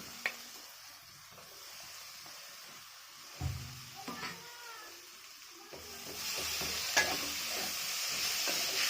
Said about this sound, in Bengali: পটলটা দিয়ে আবারও খানিকটা নাড়ব